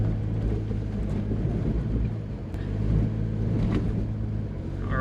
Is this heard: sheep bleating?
no